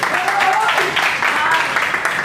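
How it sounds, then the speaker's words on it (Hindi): An audience at a poetry recital claps together in warm, steady applause, continuous from start to finish at moderate loudness. "एक बार जोरदार तालियां बजा दीजिए।"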